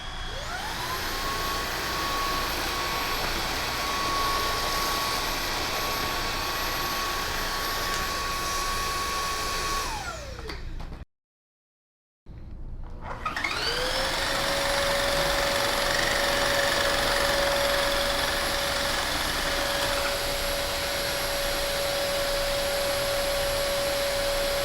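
A Hoover Streamline wet/dry vacuum, cordless and corded, runs on boost mode. One loud, steady whine spins down and stops, and after a short silence a second machine starts up and holds an even, roaring drone.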